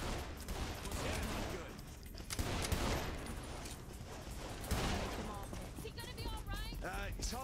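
Video game gunfire from Saints Row The Third rattles in dense bursts and volleys throughout, loud and near, with voices talking over the shooting.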